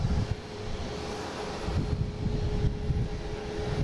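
An ITA airliner lining up on runway 9 at Boston Logan gives off a steady, moderately loud engine rumble and whine from a distance, with a faint continuous tone riding above it.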